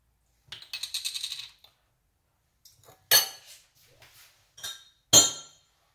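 A teaspoon clinks against a glass while apple cider vinegar is added, a few bright metallic taps and rattles separated by silence, close and fairly quiet.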